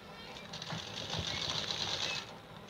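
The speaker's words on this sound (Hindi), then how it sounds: "इसे पकड़ के रखेंगे और यहाँ पे सिलाई लगाते जाएंगे" Sewing machine running steadily for about two seconds, stitching lining fabric along the leftover edge of a zip on a suit-fabric project, with a dense mechanical whir close by and no talk over it.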